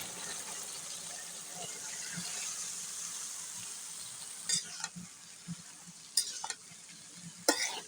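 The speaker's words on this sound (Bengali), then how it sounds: "সবগুলোর সাথে নেড়ে চেড়ে মশলাগুলোকে মাখিয়ে নেবো" Potatoes and cauliflower being stirred into fried spices for a duck-egg vegetable fry, a quiet steady sizzle with scraping spoon strokes and a few louder clacks toward the end, no talking.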